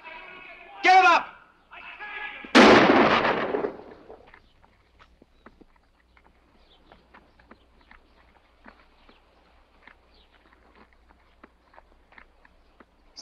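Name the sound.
gunshot in a film scene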